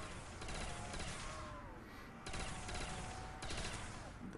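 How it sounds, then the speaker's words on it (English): A heavy machine gun fires in a shooting video game. Dense, loud bursts come in long stretches with brief lulls between them, and there is almost no talk. "these heavy machine guns just take so long to reload"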